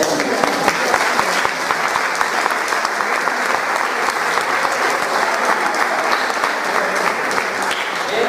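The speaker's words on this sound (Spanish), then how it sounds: "un aplauso para todos ustedes" Sustained applause from an audience at a Christmas festival event in A Coruña, dense steady clapping filling the room for several seconds with no break.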